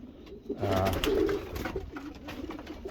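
Low, soft cooing from a pair of breeding pigeons sitting on eggs, a couple of murmured phrases in the first half followed by quieter background rustle and noise, with no talking.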